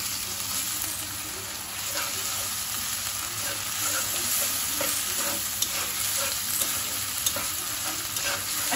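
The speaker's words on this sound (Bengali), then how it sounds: "এখন এটা একটু ভাজা ভাজা করবো আর কি" Spice paste fries in a pan with a steady sizzling hiss. A utensil stirs and scrapes it in repeated strokes for the whole stretch.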